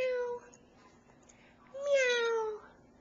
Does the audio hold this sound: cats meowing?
yes